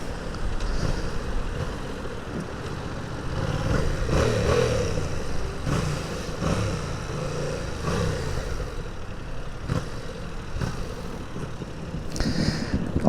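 A 2020 Yamaha MT-07 motorcycle engine with a stock exhaust hums and revs up and down continuously, fairly loud and close, with wind rushing over it.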